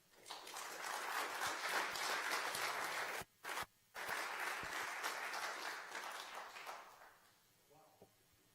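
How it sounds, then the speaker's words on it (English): Audience at a design award show applauding, a dense wash of clapping that stops briefly twice, then resumes and fades out, with a voice briefly heard near the end. "Can I have one warm applause for SHAAKIRA?"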